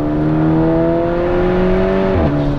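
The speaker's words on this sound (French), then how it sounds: "Rétrogradage, oh ça rétrograde vite." Volkswagen Golf GTI engine droning steadily under load, then a quick downshift near the end briefly shifts the pitch and sharpens the tone, loud and close with no voices.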